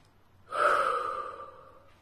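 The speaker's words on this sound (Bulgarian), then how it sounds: "Дишам дълбоко." One long, deep inhale rises sharply and fades gradually over about a second and a half, close and breathy against a quiet background with no talk.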